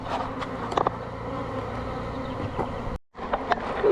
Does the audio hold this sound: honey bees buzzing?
yes